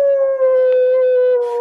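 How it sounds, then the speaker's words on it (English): A dog howls on cue in one long, loud, steady tonal note held close by, with a brief whimpering rise near the end and no talk. "Pepper, you want to howl?"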